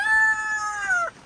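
A rooster crows once, loud and close, a single drawn-out call that falls in pitch at the end and then cuts off, at a backyard chicken coop during a night storm.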